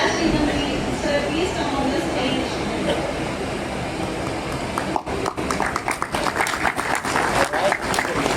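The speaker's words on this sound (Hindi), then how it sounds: "हमारे अतिथि गण का स्वागत करें और जोरदार तालियों के साथ" Loud applause from a crowd welcoming guests at an investor awareness event in Varanasi run by NSE and the district administration, steady and dense clapping throughout with a busier, sharper burst of claps near the end.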